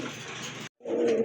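Blackless Shirtin pigeons give low, throaty coos close by in two bursts separated by a brief silence, with no talking over them.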